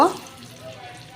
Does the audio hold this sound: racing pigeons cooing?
no